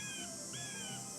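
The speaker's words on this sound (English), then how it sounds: "I heard some chirping over by the cellar" Bird chirps ring out near a cellar in the Nancy Drew game Ghost Dogs of Moon Lake, two short rising calls over a steady hiss, faint and alone.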